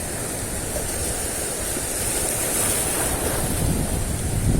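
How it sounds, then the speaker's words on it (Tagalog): Strong sea waves surging in a steady loud roar near the shore during a fishing outing, with heavy wind buffeting the microphone and no talking. "Sa lakas pa naman ng alon."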